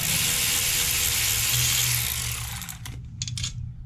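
A cordless ratchet whirs with a loud, steady mechanical drone as it turns a bolt for about two and a half seconds, then stops, followed by a few short clicks and clatters.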